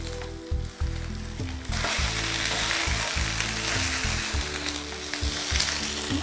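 Eggplant frying in a skillet gives off a loud, steady sizzle that carries on without a break, with a few low knocks and clatters from the pan underneath.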